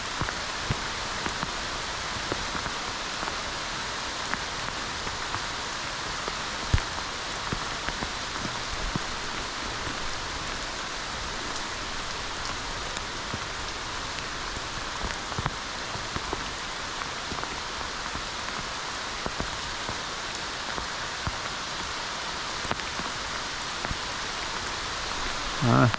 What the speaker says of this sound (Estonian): See on alles vihm.